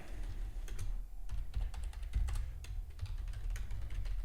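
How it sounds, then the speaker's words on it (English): Rapid keyboard typing, a steady run of light clicks close by with a few brief pauses, over a low background hum. "If you do hear typing, that's just me making alerts in the private community"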